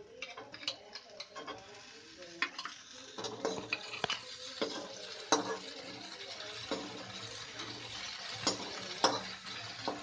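Crushed green chillies fry in a pan with a soft, continuous sizzle, punctuated by quick ticking clinks of a utensil against the metal as they are stirred nearby.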